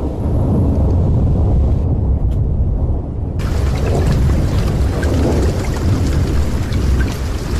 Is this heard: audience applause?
no